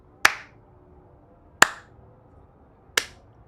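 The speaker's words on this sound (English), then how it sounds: "Xenos claps his hands" Three single sharp hand claps from a masked figure in the video game Rogue Trader, spaced evenly and slowly, crisp and close in otherwise quiet surroundings.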